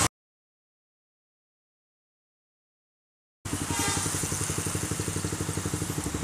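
After a few seconds of silence, a motorcycle engine starts up nearby with a rapid, pulsing rumble that holds steady.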